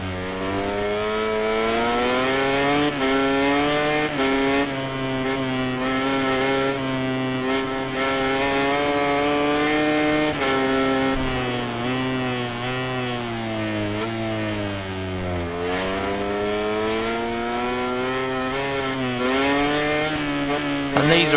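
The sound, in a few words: MotoGP bike engines racing in video game MotoGP 19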